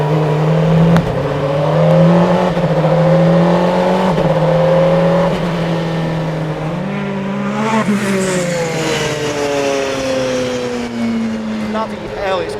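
The 217 mph Bentley Speed 8 Le Mans-winning race car accelerates hard, its engine note rising through the revs, dipping at a gear change, then climbing again in a loud, continuous howl.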